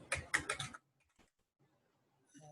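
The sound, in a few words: typing on a computer keyboard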